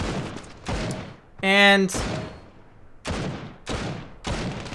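Desert Eagle pistol shots ring out in the mobile shooter Standoff 2: about five sharp, loud reports spaced irregularly, each with a short decaying tail, alongside a brief tonal game sound and a voice speaking.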